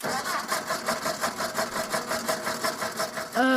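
A small cartoon family car's engine chugs in a steady pulsing rhythm, about three beats a second, fairly quiet and alone, before a brief rising mechanical whine at the very end.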